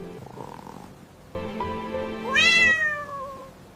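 A cat meows in a domestic indoor scene, with a short low call followed by a louder, rising then falling drawn-out meow, close and clear with no talk over it.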